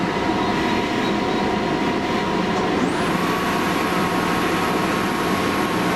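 A Monarch Model 10EE lathe, 12.5-inch swing over the bed with 20 inches between centers, runs smoothly at roughly 500 to 600 RPM, a steady close mechanical hum and drone with a high tone rising in midway, no talking.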